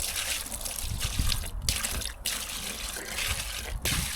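Wet concrete mix pours and trickles down the side of a container during a first-time driveway job, a continuous close liquid splashing and dribbling with a few brief dips in flow.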